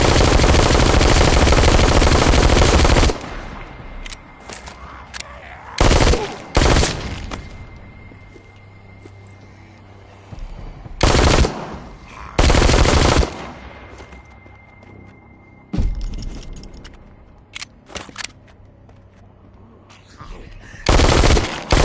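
An admin gun SMG in a VR zombie game fires loud, rapid automatic bursts, several separate volleys of a few seconds each with quieter gaps between them.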